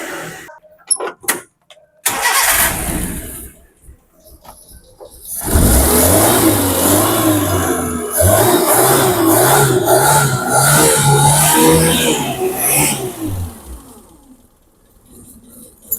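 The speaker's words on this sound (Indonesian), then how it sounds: "ini posisi mesin hidup karena kita pakai mikrofon jadi mungkin kurang jelas" A Suzuki Carry 1.0 engine is running, a mid-pitched motor that swells into a steady, pulsing drone after a few scattered knocks and then fades near the end, heard fairly close.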